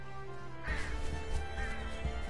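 Startled birds in the video game Unravel burst into a flurry of flapping and cawing calls, fairly close, rising suddenly partway through over a steady low background.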